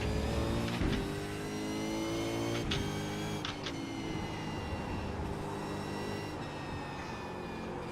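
Simulated V8 Supercar racing engine from iRacing, racing at Winton on worn, aging tyres, holding a steady, loud mid-pitched drone with harmonic whine and several brief upshift dips, continuous and close throughout.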